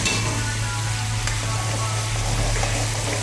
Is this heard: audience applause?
no